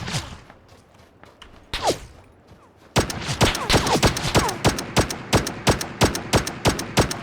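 Pistol gunfire in a video game custom match: a few isolated shots at first, then a rapid, loud run of sharp cracks fired in quick succession, close by.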